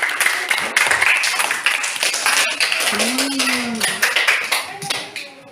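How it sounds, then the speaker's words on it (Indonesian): Students in a classroom clap together in a brisk, uneven round of applause, with voices mixed in over the clapping. "Tepuk tangan untuk kelompok 1."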